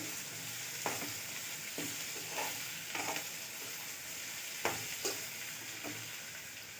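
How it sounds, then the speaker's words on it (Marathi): A spatula scrapes and stirs chopped ingredients in a hot pan with a soft, ongoing sizzle beneath, the stirring coming in intermittent strokes, quiet and close. "त्याला हलवत राहायचं आहे"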